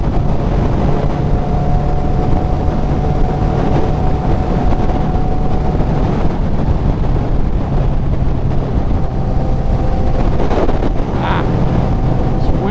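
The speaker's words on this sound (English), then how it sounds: "Wind is just atrocious out here." Strong wind gusts batter the microphone while riding a Kawasaki Z900 naked motorcycle, a constant loud rumbling buffet with engine drone beneath and no talk.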